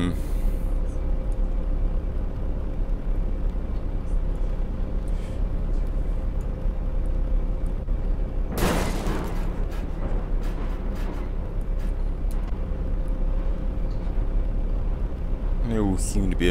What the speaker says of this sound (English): So we're gonna smash into an ambulance.